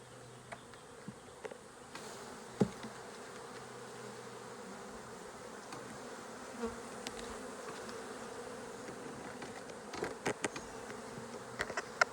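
Honeybees buzz around a hive box during a trap-out, a faint, steady hum of many insects with occasional louder passes as individual bees fly close.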